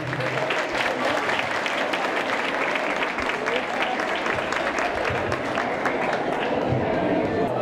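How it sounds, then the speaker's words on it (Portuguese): Dense, steady applause from a school audience for the director at a 30th-anniversary celebration, many hands clapping continuously and loudly throughout. "Uma salva de palmas para ele, por favor."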